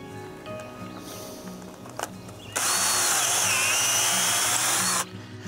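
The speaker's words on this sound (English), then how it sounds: "So Kevin's next going to drill to the proper depth." A power drill boring into a tree trunk to a set depth, starting abruptly and running loud and steady for about two and a half seconds before stopping, close by with quieter background sounds around it.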